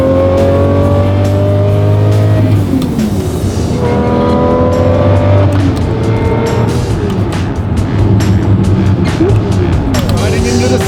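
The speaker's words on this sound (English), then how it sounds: "Lamborghini V12 with a manual gearbox" A Lamborghini V12 with a manual gearbox revs hard while driving, loud and close, its pitch climbing and dropping repeatedly through gear changes over a steady road roar.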